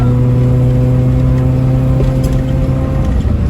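Honda Civic sedan with a K20A swap, converted from automatic to manual, under hard acceleration: a loud, steady engine drone close by with a sustained low hum and no talk.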